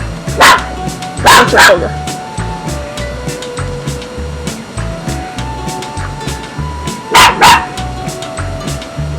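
Young dogs, a little over a year old, bark in a home kitchen during pizza-boat cooking: a single bark, then a quick pair, then another bark near the end, all close and loud over steady background noise, with brief talk.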